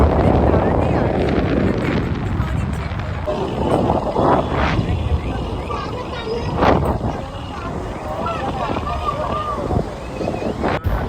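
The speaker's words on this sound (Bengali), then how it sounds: "এখানে প্রচুর প্রচুর হাওয়া দিচ্ছে" Strong sea wind at the Puri lighthouse roars and buffets the microphone in low, rumbling gusts, with a person talking intermittently over it.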